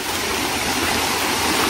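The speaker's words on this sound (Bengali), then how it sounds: "এই যে ছড়ার যে পানির শব্দ শুনতে পারতেছেন" Water of a hill stream fed by a waterfall at Chandradinga, Panchgaon, rushing in a steady, loud, broadband wash with no break, close by and alone.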